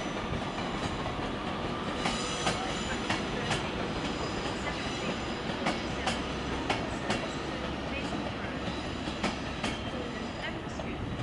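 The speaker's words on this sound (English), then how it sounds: "we've got an Avanti Pendolino to London." An Avanti Pendolino train to London passes through a Manchester station with a loud, close rolling roar, repeated clickety-clack wheel beats over rail joints and some brief squeal, steady throughout.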